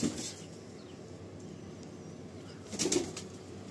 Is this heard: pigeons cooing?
yes